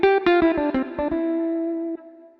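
Synthesized tones played through a reverb effect in Soundpaint software, a quick run of plucked notes followed by a sustained note with a lingering tail that decays slowly.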